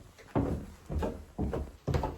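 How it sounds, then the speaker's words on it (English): An old wooden door in a remote Scottish bothy is pushed shut. Four dull, hollow wooden thuds land at about half-second gaps, close and fairly loud, with no talk over them. "Let's just shut that door."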